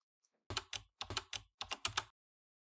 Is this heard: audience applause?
no